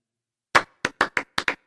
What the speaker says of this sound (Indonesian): Kenapa kok tepuk tangan ini?